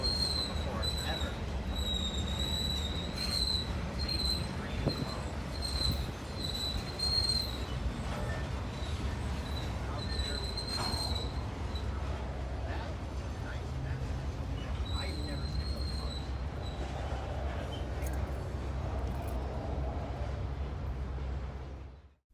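Special Safety Train rail cars roll past at Palmer, Massachusetts, wheels squealing in high, sustained shrieks over a steady rumble and clatter, with faint voices in the background.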